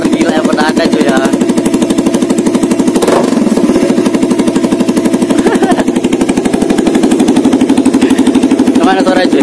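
A motorcycle engine runs loud and close for the whole stretch, with a rapid, steady pulsing throb and no clear breaks.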